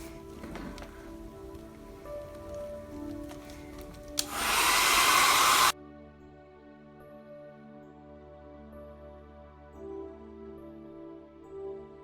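Air from a hair dryer blasts alcohol ink across a surface to make a background: a loud, steady broadband rush for about a second and a half, then it cuts off abruptly, leaving quiet tonal background sound.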